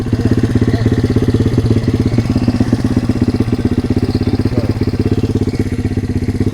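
An SSR170 four-speed pit bike engine runs close by. It gives a loud, steady, rapid single-cylinder putter at idle and holds the same even rhythm throughout, with no voices over it.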